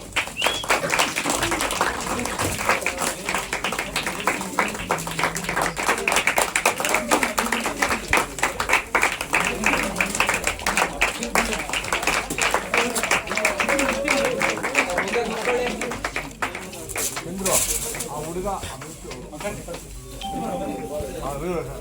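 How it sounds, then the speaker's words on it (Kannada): Loud, sustained applause rolls through a press conference for a new reality show, many hands clapping densely for a long stretch, with a voice talking over it and a bright ding-like tone near the end. "ಜೋರಾದ ಚಪ್ಪಾಳೆ."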